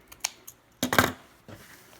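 Scissors snip through a section of thin, cheap tinsel being cut for pom-poms, a few light crisp cuts and rustles, close and fairly quiet, with no talking.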